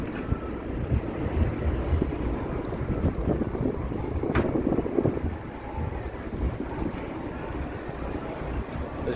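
Wind buffets the microphone aboard a ferry arriving ashore in Belize, with a low, continuous engine and water rumble throughout.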